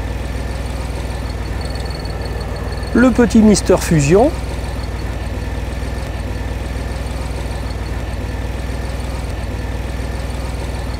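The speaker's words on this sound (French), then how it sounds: "on a démarré le moteur. Et ben, comme tu peux entendre, ça ronronne bien." A DeLorean engine idles in a steady low, even rumble that runs unchanged throughout, with someone speaking briefly over it partway through.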